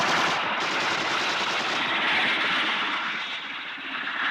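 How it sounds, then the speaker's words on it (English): Continuous rapid machine gun fire from a helicopter blended with its roaring engine, loud and sustained throughout with no pauses. "Destiny Angel, helicopter A42 is firing at me."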